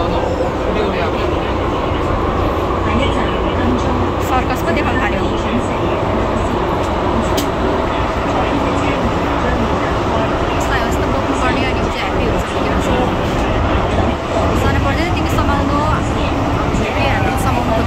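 A Hong Kong metro train runs with a steady, dense rumble and rolling rail noise throughout, loud and continuous, with faint voices in the carriage.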